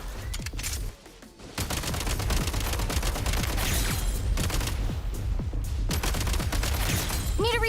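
Dense, sustained gunfire in Genshin Impact, rapid shots rattling almost without pause across the whole stretch after a brief lull near the start, loud and close, with a short rising tone at the end.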